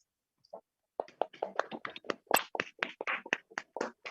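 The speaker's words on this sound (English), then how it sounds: "Let us give them a huge round of applause." Applause at a felicitation ceremony of a World Peace Summit: after a brief pause, a small audience claps in sharp, distinct, fairly close claps that quicken and continue steadily, with no talking.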